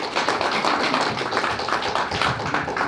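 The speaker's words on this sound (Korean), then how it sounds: "박수로 환영해 주시기 바랍니다." Audience applause welcoming a speaker at the founding convention of a Korean-American society in New York, a steady dense clapping that holds at an even level for about three seconds with no voices over it.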